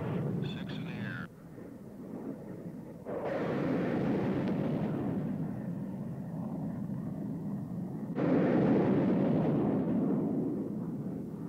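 Phoenix missiles launching from an F-14 Tomcat, each firing a loud roaring burst that swells and sustains, with a second launch roar surging in later; a voice speaks beneath.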